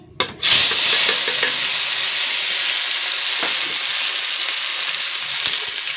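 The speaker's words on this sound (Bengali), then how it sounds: "এখন সুন্দর করে মশলাটা কষিয়ে নেব।" Spice paste sizzles loudly in a hot pan after cumin and ground spices go in, cooked down for a prawn and taro-stem curry with mustard and poppy seed; a sharp hiss at the start settles into a steady frying roar, no voices.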